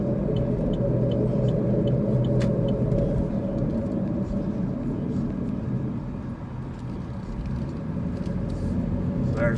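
A car cruising along a busy commercial road in South Cleveland, Tennessee while turning onto McGrady Drive, a loud steady low engine and road rumble filling the cabin with faint ticking and clicks over it.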